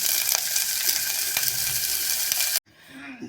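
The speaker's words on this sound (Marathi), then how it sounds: "तेल गरम करून त्याच्यात हे कांदा भाजून घ्यावे" Onion frying in hot oil with garam masala gives a loud, steady sizzle for about two and a half seconds, then cuts off abruptly to near quiet.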